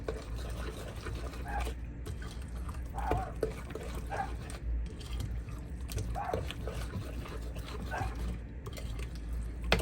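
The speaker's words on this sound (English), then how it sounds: "Even the dogs are going crazy for it." A dog barks and whines intermittently in a kitchen while a corn casserole is cooked, with steady background noise and faint talk.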